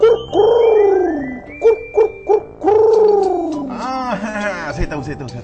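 A voice imitates the call of a spotted dove: long, rising-and-falling hooting coos with a run of short coo notes between them, close and clear, ending in brief speech.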